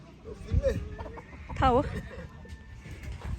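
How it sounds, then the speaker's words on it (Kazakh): Chickens and roosters in a yard in an African village, clucking and squawking in short bursts, one loud drawn-out rooster call in the middle, fairly close with ambient background noise. "Тауықтар, әтештер."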